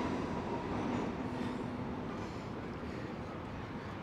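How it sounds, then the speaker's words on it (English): A New York City subway train on the 1, 2, 3 line rumbles beneath a Manhattan street, a steady, loud, broadband roar with a faint metallic hum that holds evenly for the whole stretch. "we could hear the 1, 2, 3 train down below."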